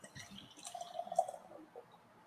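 Beer poured into a glass, a soft gurgling trickle of liquid filling with faint splashes and fizz, quiet and close, swelling in the middle then fading.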